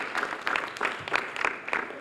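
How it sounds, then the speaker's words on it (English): A room at a Milwaukee Youth Council resource allocation signing breaks into applause, heard as close, bright bursts of clapping in uneven pulses over a short stretch. "Let's give everyone a round of applause."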